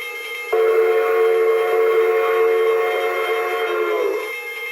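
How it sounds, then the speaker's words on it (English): A Lionel model train's electronic steam whistle sounds one long, steady, loud chord that starts abruptly, holds for several seconds, then bends and fades slightly at the end. "Let's run a couple trains here."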